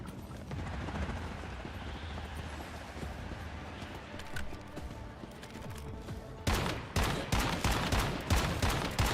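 Shotgun fire in the video game Endless Dream during a PvE event, heard as a busy, dense clatter of game noise that gives way to loud, rapid, closely repeated blasts near the end, with no voices.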